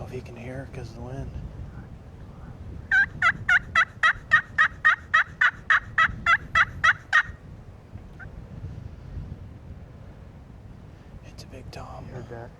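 A wild turkey tom gobbles in a field, a rapid burst of about a dozen sharp gobble pulses lasting several seconds, with wind noise and faint rustling around it.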